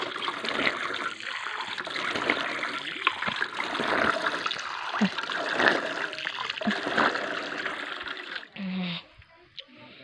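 Water runs and trickles nearby, splashing unevenly, with faint voices in the background before it briefly drops off.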